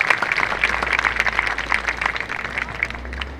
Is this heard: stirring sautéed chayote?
no